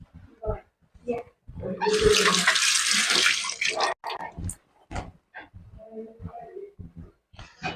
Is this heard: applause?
no